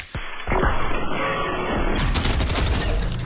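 Fortnite charge shotgun blasts in a pump swap with a headshot, a loud close gunshot burst that rings out into sustained crackling fire and debris for a few seconds.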